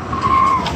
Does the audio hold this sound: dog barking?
no